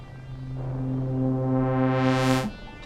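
Prophet 6 synthesizer tone with a rising filter sweep, a sustained low note whose brightness climbs steadily over about two seconds before cutting off, heard alone and moderately loud.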